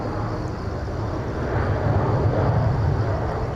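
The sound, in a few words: China Southern Airbus A320 airliner landing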